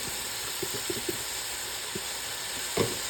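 Seasoned beef with cumin and oregano is stirred in a pot for stew, a constant frying hiss with soft utensil knocks and a louder scrape near the end.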